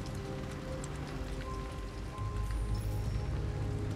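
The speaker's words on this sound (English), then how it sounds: "It's raining though." Steady rain pours and patters on surfaces in Detroit: Become Human, a dense continuous hiss that swells slightly louder partway through, with a low game hum beneath and no talking.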